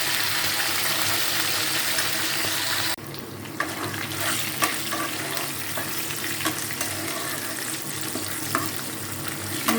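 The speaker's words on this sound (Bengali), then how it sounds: "তাহলে মাছগুলো লাল লাল করে ভাজি ফেলি।" Pieces of fish fry in a pan with a loud, steady sizzle that briefly dips, then resumes with spattering pops and occasional stirring scrapes.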